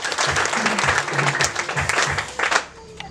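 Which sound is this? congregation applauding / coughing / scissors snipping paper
congregation applauding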